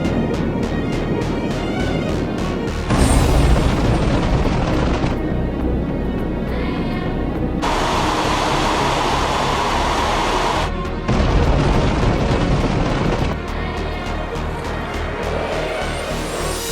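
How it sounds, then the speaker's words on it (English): Loud, continuous roaring blasts and rumbling booms from bombs dropped by a B-52 bomber, sustained and dense, with abrupt shifts in intensity like a barrage of explosions. "Loud explosions echoed from below, signaling that the bombs had struck their targets"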